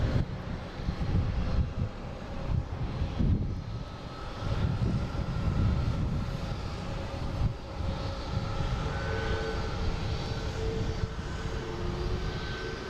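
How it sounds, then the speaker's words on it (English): Airliners landing and taking off at Boston Logan International Airport produce a continuous distant jet-engine roar that swells and fades, with no speech. "they are using 4 right for landings right now, and runway 9 and 15 for takeoffs"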